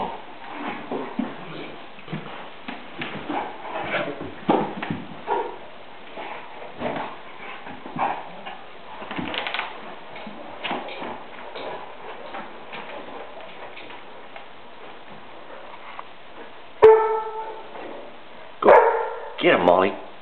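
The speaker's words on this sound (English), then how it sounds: "Sunday dog fights." Newfoundland dogs playfighting at Easter, with rough growls and scuffling through the clip and a few loud barks bursting out near the end, close by.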